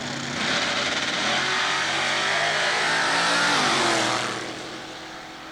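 Chevrolet Vega drag cars launching at Southeastern Dragway, a loud, steady roar of racing engines that swells, holds for several seconds with a slight pitch dip, then fades as the cars pull away.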